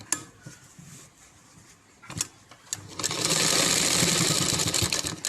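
A sewing machine stitching the side seam of a sharara, first a few short clicks and bursts, then a louder, steady whirring run in the second half, with no voice.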